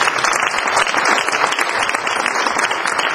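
A reception crowd applauds at a co-sponsored evening event in Toronto, continuous thick clapping at an even, fairly loud level from start to finish.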